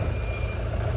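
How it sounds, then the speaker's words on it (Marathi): A vehicle comes up from behind on a forest road near Dajipur village. It gives a low, steady engine rumble with heavy road noise, close and continuous for a brief moment. "मागून गाडी येत."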